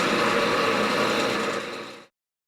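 A wood lathe spins a camphor hollow form while a tool cuts off its tenon, giving a dense steady whirring rasp up close that fades out abruptly after about two seconds.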